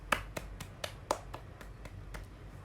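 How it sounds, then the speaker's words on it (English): A handful of scattered, separate claps from students in a classroom, sparse and quiet rather than a full round of applause, with no talking. "Give applause to Rahmat, everyone"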